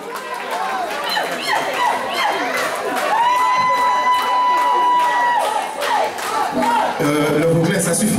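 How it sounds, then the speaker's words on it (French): A dense carnival crowd in Guadeloupe cheers and applauds continuously, loud and close, with whistles, shouts and music blending into a steady festive roar throughout. "Des applaudissements également pour Taconou."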